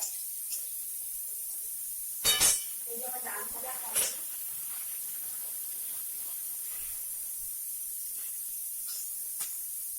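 A pressure cooker boiling cabbage lets out short sharp bursts of steam hiss, one strong release and a smaller one a couple of seconds apart, over a quiet room with faint background sound.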